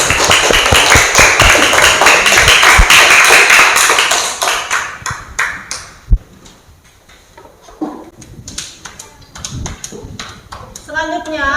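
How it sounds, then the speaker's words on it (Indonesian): A class of students claps in a classroom, a dense burst of applause at first that thins into scattered claps and murmuring voices as it fades. "Tepuk tangan dulu ya semuanya"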